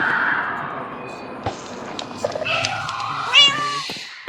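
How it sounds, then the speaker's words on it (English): A cat in a video game gives a few short meows that rise in pitch near the end, heard over a faint background hiss with a voice speaking over it. "got the local cat."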